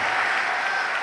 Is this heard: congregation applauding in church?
yes